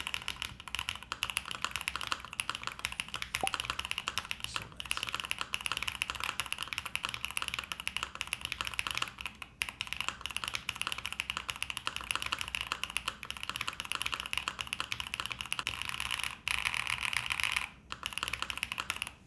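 Continuous clacky typing on a pre-built Luminkey75 mechanical keyboard, steady rapid keystrokes close up with brief pauses, no voices.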